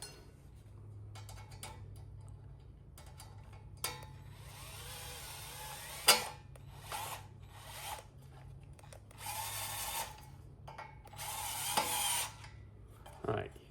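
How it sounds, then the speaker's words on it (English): A power drill drives short screws into a scavenger battery box in several brief whirring bursts with clicks and handling knocks between them, fairly quiet over a low steady hum. "you're going to screw them down, but you don't want to over tighten them"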